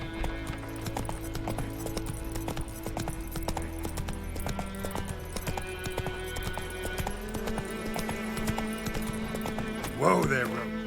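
Roach, a horse in The Witcher 3: Wild Hunt on PC, trots with steady clip-clop hoofbeats over continuous game music, ending in a short neigh near the close.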